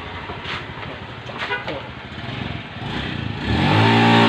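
Bored-up Honda Beat scooter with an oversize carburetted Vario piston, its engine started for a test run; a low rumble rises into a louder revving roar at the end, with voices over the early part.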